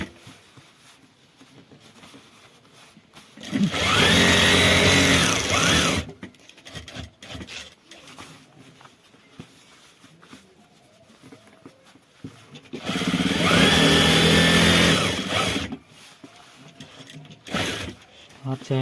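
A sewing machine stitches a back pocket onto trousers in two loud bursts of about three seconds each, separated by quieter handling and rustling of fabric.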